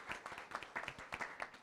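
Scattered hand claps from an audience at a blockchain summit honoring event organisers, faint and fairly sparse with irregular bursts rather than a dense ovation.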